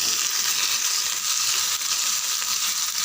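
Chopped tomatoes sautéing in a pan for parota salna, a steady, bright hiss of sizzling that stays loud and even throughout, with no other sounds over it.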